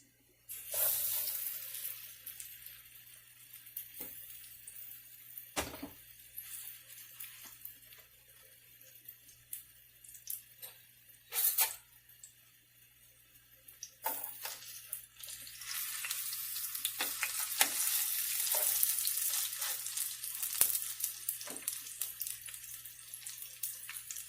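Aloo tikki, potato patties dipped in batter, fry in a little oil in a pan with a steady broadband sizzle that swells and fades over time, broken by a few sharp clatters and splashes. No one speaks.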